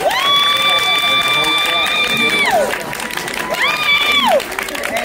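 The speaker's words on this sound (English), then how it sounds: "One more time, another round of applause for this amazing cast." Red-carpet audience applauding a film cast, with steady clapping and loud, sustained whoops or whistles rising over it in two long bursts.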